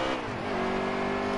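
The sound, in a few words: race car engine revving in a NASCAR video game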